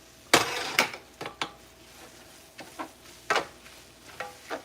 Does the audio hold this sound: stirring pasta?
yes